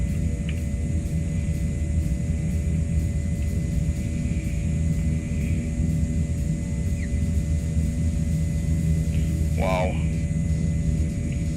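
Canadair CL-415 water bomber in Microsoft Flight Simulator 2024, flying low on a Hawaii fire watch: a steady, loud engine drone and rumble fills the whole stretch, with a brief spoken exclamation over it.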